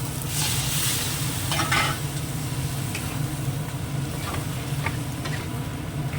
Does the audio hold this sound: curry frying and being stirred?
yes